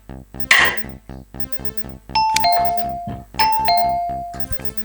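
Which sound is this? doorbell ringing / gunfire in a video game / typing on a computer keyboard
doorbell ringing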